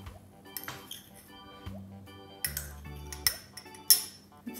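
A spoon stirs milk and icing sugar in a small cup, giving quick clinks and squeaky scraping against the sides in short bursts, close and fairly clear.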